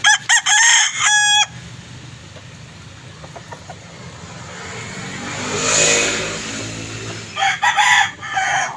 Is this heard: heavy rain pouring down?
no